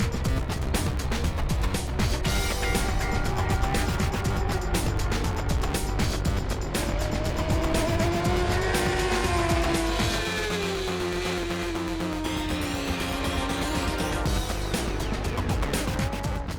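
BMW superbikes racing at Mosport, engines screaming loud and close at the start, rising and falling in pitch as they pull away and shift gears, with a continuous roar throughout.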